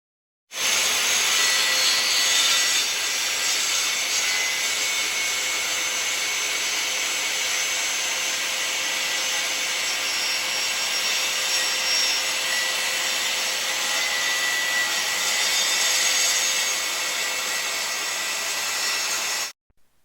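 A circular saw runs steadily through hardwood plywood on a diagonal cut, a loud, continuous whining roar with a gritty rasp that holds for nearly twenty seconds before stopping abruptly.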